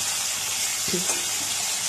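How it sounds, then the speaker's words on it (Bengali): Shrimp frying in a pan with salt and turmeric, a steady close hiss of sizzling oil with a brief clink of a utensil partway through. "এবার আমি চিংড়িগুলোকে নুন হলুদ দিয়ে ভেজে নিচ্ছি।"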